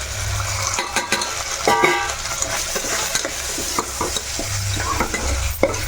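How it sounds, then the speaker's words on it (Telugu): Egg curry sizzles and fries steadily in a pan, with repeated stirring scrapes and clinks of a utensil against the pan throughout, close and fairly loud, no talking. "ఇక్కడ వేగుతున్నాయి"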